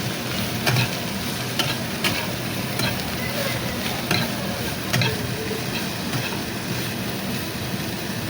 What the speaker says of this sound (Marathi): भेंडी ॲड केली आहे आणि तिला चांगली परतून घेतली आहे